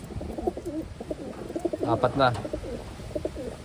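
Pigeons cooing in soft, throaty, warbling calls close by, while a voice talks quietly over them.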